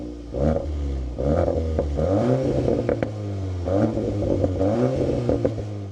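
A 333 hp Cupra Formentor VZ facelift engine starts up, then settles into a deep, close idle with a few rising and falling revs and some light rattling, heard alone.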